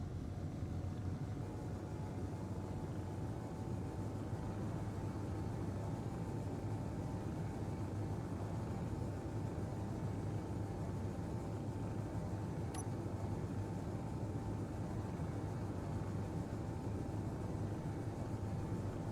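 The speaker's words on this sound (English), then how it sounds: "How high can we get on the Atmo thrusters?" Atmospheric thrusters on a craft in Space Engineers roar in a steady, unbroken low rumble with a faint constant tone above it, holding at the same level throughout as the ship climbs.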